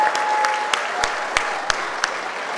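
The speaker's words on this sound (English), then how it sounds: "I think they all deserve a wonderful round of applause," An awards ceremony audience at a tech conference breaks into steady applause, a dense, even clatter of many hands with a few sharper claps standing out, loud and close, with no talking over it.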